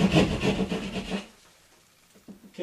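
A hand saw, about fifteen years old and dull, cuts through sheetrock in a water-damaged ceiling, giving a rapid rasping sawing burst for about a second before stopping, followed by faint handling noises.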